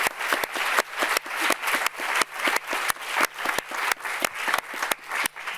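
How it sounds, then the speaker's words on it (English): Audience applause at a Cannes press conference, a dense burst of many hands clapping together with regular surging swells, loud and close, with no talk over it. "we can applause to start."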